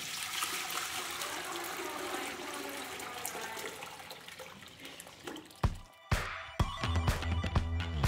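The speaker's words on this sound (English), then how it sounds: "So I'm gonna pour this into the pot once again." Dyer's woad dye liquid pours steadily in a continuous splashing stream into a pot, then stops, followed by a few clanks and knocks of a pot or utensil.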